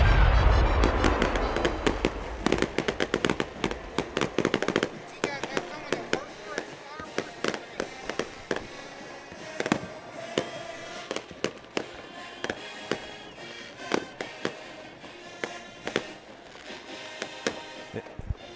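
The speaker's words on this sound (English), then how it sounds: "Enjoy the fireworks show." Fireworks show at a high school football stadium after a Navarre Raiders home game against the Niceville Eagles: a dense, rapid barrage of sharp bangs and crackles, loud and close, with a continuous rumble early on and scattered voices underneath.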